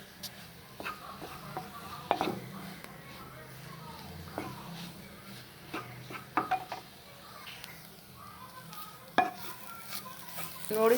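Carrot halwa is stirred in a frying pan, with repeated uneven spatula scrapes and clacks over a gentle sizzle, while a person talks throughout.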